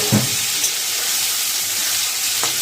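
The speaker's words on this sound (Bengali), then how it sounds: "এই যে বেগুনটা ভাজা ভাজা হয়ে গেছে" Eggplant slices sizzle and fry in hot oil with kalonji and green chilli tempering, a steady close hiss with a few soft stirring touches.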